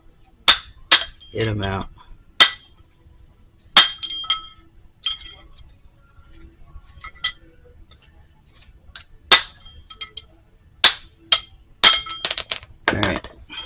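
Brass punch struck with a regular hammer to drive king pin bushings out of a 1949 Chevy 3100 truck, sharp metallic clinks landing in irregular single and paired blows across the clip, with brief talk between strikes.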